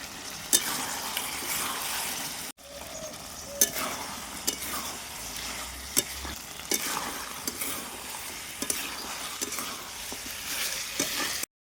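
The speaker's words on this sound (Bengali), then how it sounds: "10 থেকে 12 মিনিট সময় নিয়ে নেড়ে চেড়ে 10 থেকে 12 মিনিট সময় নিয়ে কষিয়ে নেব" Mutton curry masala, with potatoes in the pot, stirred and fried in a pan: a steady loud sizzle with repeated scraping strokes of the spoon, a brief break partway through, no voices.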